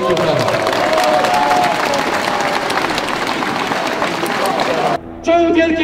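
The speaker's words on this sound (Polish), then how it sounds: "Wielkie brawa." A large outdoor crowd at the 2020 Independence March in Wrocław claps together in a dense, steady roar of applause with crowd noise mixed in, then it cuts off abruptly near the end.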